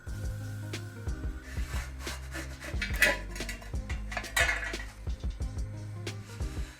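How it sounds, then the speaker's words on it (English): Walnut cheese bread flipped in a pan with a plate, giving soft clinks and scrapes of the plate against the metal, a few knocks over a low background hum. "I turn the bread to the other side with the help of a plate."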